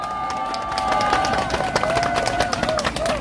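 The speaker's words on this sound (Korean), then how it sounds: "큰 박수 부탁드립니다." Audience applause at a Korean political lecture, a steady wash of clapping that holds at an even level for a few seconds, with faint voices mixed in.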